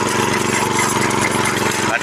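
Walk-behind grass cutter engine running in second gear while cutting Napier grass, a loud, steady, close mechanical roar with no break.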